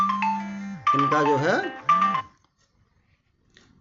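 A phone ringtone plays as a melodic electronic tune in bursts, close and clear, and a person speaks briefly over it before the ringing stops.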